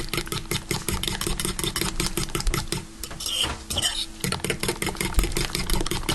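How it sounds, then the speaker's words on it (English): Parmesan cheese being stirred into eggs in a bowl, a fast, steady run of rhythmic clinks and scrapes from a utensil against the bowl, close and fairly loud, with a brief pause partway through. "I'm going to put this parm in with the eggs. And just mix it in really well."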